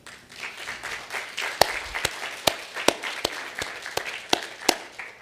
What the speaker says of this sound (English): So you can report to your boss that his remarks were met with great applause.